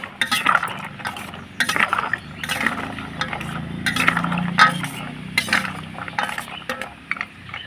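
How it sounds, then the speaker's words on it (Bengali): Colorful baby sweets made with powdered milk are stirred through hot sugar syrup in a bowl, giving a steady run of light clinks and scrapes against the bowl over a soft wet swirling. "সেরাটা গরম থাকা অবস্থায় মিষ্টিগুলো সেরার মধ্যে দিয়ে দিব। দিয়ে একটু এইভাবে করে নাড়াচাড়ানো করে নেব।"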